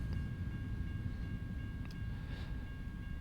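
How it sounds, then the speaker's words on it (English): A freight train passes in the American Truck Simulator driving game, producing a faint, steady low rumble of rolling wagons that continues without a break. "Don't see a lot of trains sometimes,"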